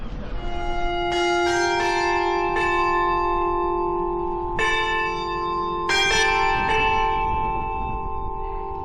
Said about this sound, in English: Those bells go off every 15 minutes and timed perfectly for this segment.